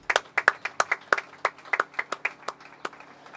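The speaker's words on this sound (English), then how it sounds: "you all deserve a great round of applause" Applause from the Louisville community audience at a SmArt Bus Stops program event, made of a small number of distinct, uneven hand claps at a fairly close distance with no talk over it.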